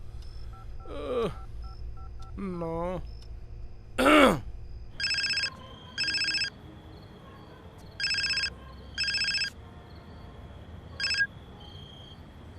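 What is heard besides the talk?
telephone dialing and ringing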